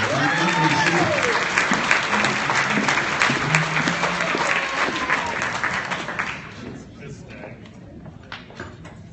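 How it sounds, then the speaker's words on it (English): Audience applause at a community awards ceremony welcoming the chamber of commerce volunteer of the year, loud and steady with voices mixed in, fading sharply after about six seconds to scattered claps. "please give her an applause, Inka Baker from Florida Community Bank"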